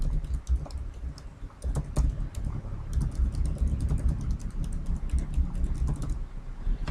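Steady typing on a computer keyboard, rapid irregular key clicks close up and continuous for several seconds, no voices.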